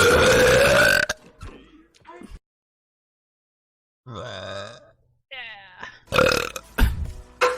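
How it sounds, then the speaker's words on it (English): A loud, drawn-out burp from a female streamer rings out alone, with other voices and noises before and after it. "here's a big burp for you guys"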